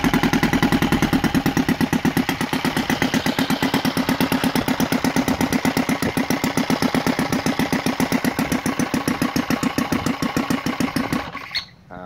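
A ROTO 85 FSI inline twin model engine fitted with a CH ignition conversion runs at a steady, loud, rapid pulsing beat close by for about eleven seconds, then cuts out abruptly near the end.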